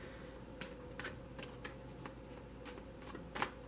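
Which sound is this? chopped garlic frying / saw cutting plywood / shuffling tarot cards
shuffling tarot cards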